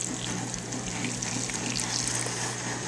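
Beef broth pours steadily into tamale dough, a continuous close liquid rush and splash with no talking.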